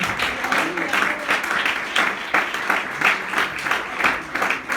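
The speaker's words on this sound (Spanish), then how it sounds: "Denle un aplauso al Señor, mis hermanos." A church congregation applauds during a Spanish-language sermon, a dense, steady wash of clapping from many hands that holds loud and even for the whole stretch.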